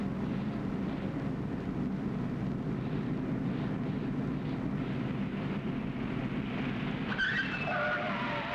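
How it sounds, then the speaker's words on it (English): A car brakes hard at 30 mph during crash-avoidance driver training and skids. A steady, loud roar of tires and road runs throughout, and a sharper tire squeal rises near the end. "What you've just done, braking hard and holding position, is the most natural reaction"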